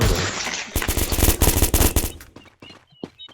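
Rapid automatic gunfire from a shooting video game, loud dense bursts of shots for about two seconds, then sparser single cracks and quieter game effects.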